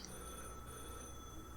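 A telephone ringing faintly in the background with a steady electronic tone, quiet and distant for under two seconds, no voices.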